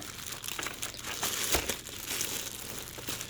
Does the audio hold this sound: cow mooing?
no